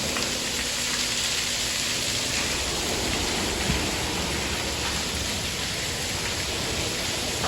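An automatic car wash sprays Rain-X onto a car in 20°F cold, a steady, loud, close hiss of spraying liquid that never lets up.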